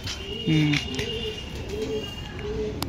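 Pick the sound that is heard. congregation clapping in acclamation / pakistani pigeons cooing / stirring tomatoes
pakistani pigeons cooing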